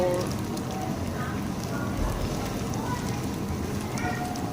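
Potato snacks frying in hot oil give a steady, dense sizzle and crackle that carries on without pause at moderate level, with no talking over it.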